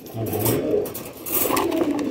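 Sialkoti pigeons give soft, throaty coos close by, two or three rolling calls against a faint background hiss, with no voices.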